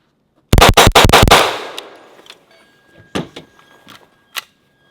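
An unsuppressed pistol-caliber carbine fires a rapid burst of about six sharp, loud shots, followed by a few scattered single clanks and clicks as the ringing fades.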